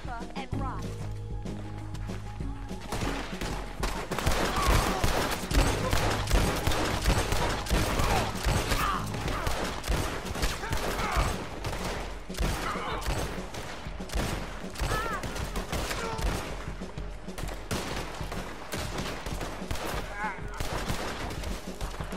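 Dense gunfire in the Western online game Red Dead Online, repeated rifle and pistol shots cracking loudly over a sustained battle din, with people talking now and then beneath the shooting.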